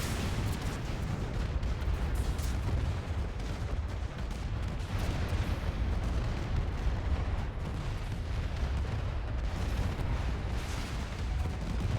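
Dire grenade launchers fire in the space strategy game AI War 2, a continuous dense barrage of booming, crackling blasts that rolls on steadily at moderate volume.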